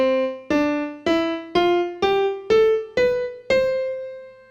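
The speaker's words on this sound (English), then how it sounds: "If I go from middle C all the way up to this C here, it sounds like this." Eight distinct piano notes climb stepwise from middle C to the C an octave above, each struck cleanly at an even, unhurried pace and left ringing briefly, played alone without talking.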